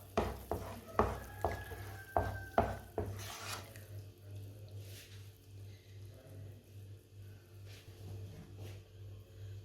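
A spoon scrapes and clatters several times against a pan while panjiri is mixed with jaggery, a quick burst of sharp strokes at first that then gives way to a quieter low hum.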